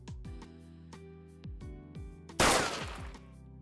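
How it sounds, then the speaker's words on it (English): Several sharp video game gunshots crack out one after another with ringing tails, followed by a louder, noisy blast near the end. "were those gunshots too loud for you guys?"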